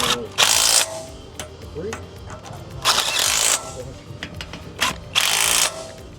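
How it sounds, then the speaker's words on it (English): A 13 mm socket on a ratchet tightens winch mounting bolts on a Can-Am headache rack, giving three loud bursts of ratcheting clicks, close up, with someone talking in between. "now you take your 13 mil socket and just tighten them down the rest of the way"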